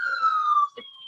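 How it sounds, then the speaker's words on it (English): An ambulance siren sweeps past with a loud, falling wail that drops in pitch as the vehicle goes by, close and clear, trailing off into quieter street noise after about a second. "Hang on, let's let the ambulance pass."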